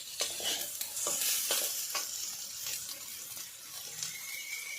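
Pasta made from atta sautéing with ground spices in a pan: close, continuous stirring scrapes over a soft frying hiss, with regular rhythmic strokes and no talking.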